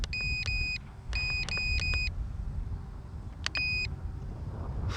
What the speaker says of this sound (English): I don't know why the transmitter's beeping